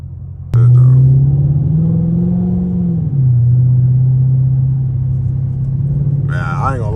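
A straight-piped 345 Hemi Dodge Charger RT roars on the highway, a loud sudden rev settling into a deep steady exhaust drone that dips and holds, with a brief voice near the end.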